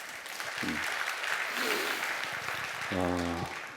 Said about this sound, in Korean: 박수를 해주시면 좋겠습니다